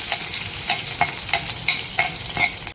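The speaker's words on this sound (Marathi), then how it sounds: "कढईमध्ये आपल्याला दोन चमचे तूप घालायचं आहे जिरं घालायचं आहे दोन हिरव्या मिरच्या आपल्याला बारीक चिरून घालायच्या आहे हे चांगलं असं परतून घ्यायचं" Cumin seeds and finely chopped green chillies sauté in two spoons of ghee in a kadhai, a bright close sizzle punctuated by regular stirring scrapes about twice a second, with no one speaking.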